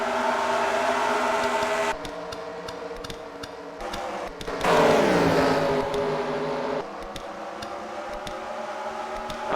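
Race cars lap a track during a CWRL Rumble at The Rock, a checker car among them, engines droning steadily with a louder revving surge midway as cars pass close, plus faint ticking over the continuous roar.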